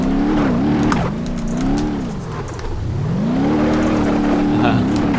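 A Hyundai Pony driven in BeamNG Drive, its engine note climbing and falling as the car revs up, eases off and accelerates again, loud and continuous throughout.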